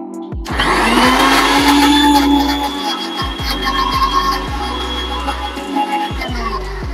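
A kitchen mixer grinder whirs loudly and continuously, starting and stopping in bursts, with rattling from the jar, while grinding a neem, aloe vera and turmeric paste for homemade soap.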